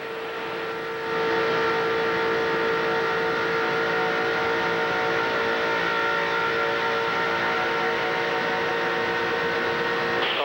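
NASCAR Cup Series race cars at Talladega Superspeedway in 2003, a steady loud engine roar with sustained high drone that swells after the first second and holds, like a pack running by close and continuous.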